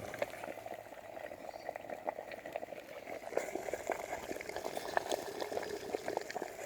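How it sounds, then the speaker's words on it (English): A half-litre Ghillie kettle boils vigorously over an open fire, water bubbling and spitting in a continuous rolling churn with crackly pops, faint and close. "it's literally boiling its guts away at the moment"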